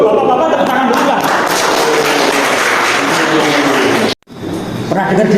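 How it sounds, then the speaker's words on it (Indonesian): A room of gentlemen at an office motivational talk claps together in sustained, dense applause for about four seconds, breaks off abruptly, then resumes. "Bapak-bapak tepuk tangan dulu lah."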